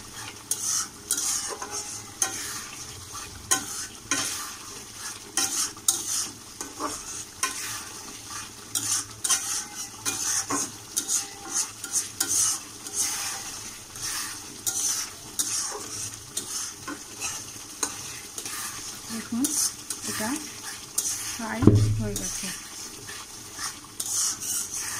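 Fish curry sautéing in mustard oil with bitter gourd and fish belly pieces: a steady sizzle runs throughout, with repeated scraping stirs and a brief, louder burst near the end.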